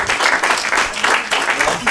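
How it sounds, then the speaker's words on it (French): An audience applauds Alex during a live interview event, with a dense, steady wash of many hands clapping at once that holds at full strength for the whole two seconds. "On applaudit Alex"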